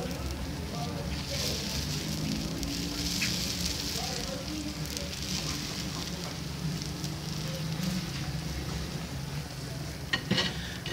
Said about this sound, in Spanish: Chequen ahí cómo empieza a hervir la cerveza y en este momento salchichas